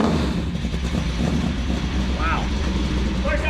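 A 1966 Shelby GT350H race car idling dead cold through side pipe exhaust, a loud, close, steady low rumble with people talking over it.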